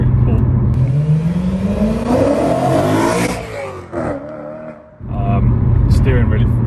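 BMW E92 M3 with a naturally aspirated engine accelerating hard from inside the car, the engine note climbing steadily through the revs, dipping on a gear change, then pulling again, loud and close.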